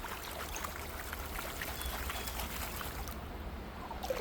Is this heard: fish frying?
no